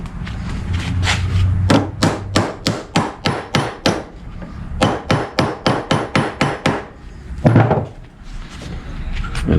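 Metal part hammered on an anvil in a garage during a four-barrel carburetor swap, a loud, fast series of sharp ringing blows in two long runs, with a few scattered hits after them.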